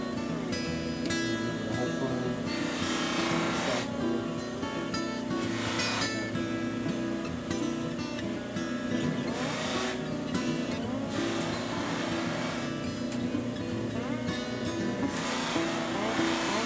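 A polishing wheel buffing an electric ukulele nut produces a continuous loud motor whir and grinding hum, steady for the whole stretch with slight surges as the piece presses against the wheel.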